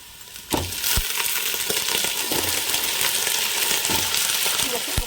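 Drumstick pieces tipped into onions frying with turmeric in a pan, giving a loud, steady sizzle with a burst at the start and scattered clinks and knocks of pieces landing.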